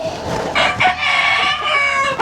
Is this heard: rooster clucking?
yes